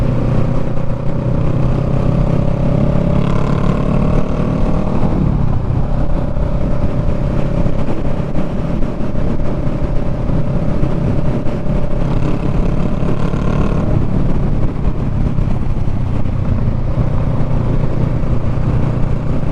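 A dirt bike engine runs steadily and close, holding a buzzing drone with a few shifts in pitch as it revs and settles, alone without talk.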